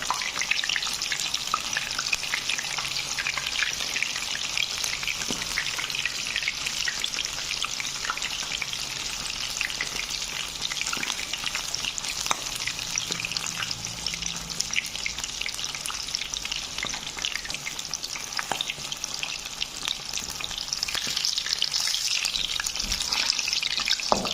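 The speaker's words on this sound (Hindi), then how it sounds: "हम एक पीस डालेंगे ताकि अच्छी तरह ये फ्राई हो जाए।" A chicken leg tikka piece fries in hot oil at medium heat, giving a steady, close, continuous sizzle and crackle that runs unbroken throughout with no voices.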